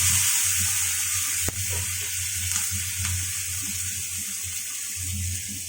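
Nigella seeds, tomato and green chilli sizzle in hot oil left from frying fish, giving a continuous bright hiss with low bubbling beneath and one sharp click.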